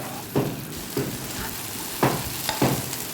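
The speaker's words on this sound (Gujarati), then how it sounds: "હવે એને પ્રોપર મિક્સ કરી લઈશું." Chopped okra (bhindi) being stirred in a frying pan, a few distinct scraping clacks of the spoon over a steady soft sizzle, close and clear with no talking.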